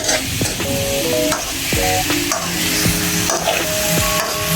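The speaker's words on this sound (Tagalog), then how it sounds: "Konting gisa-gisa na lang to sabay." Ground meat (giniling) sautéing in a pan, steady loud sizzling with repeated scraping stirs and clinks of a utensil against the pan.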